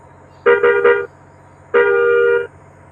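A bus horn in Bus Simulator Indonesia, with a KSRTC bus on the road, honks three quick stuttering toots and then one longer steady blast, loud and close over a low engine hum.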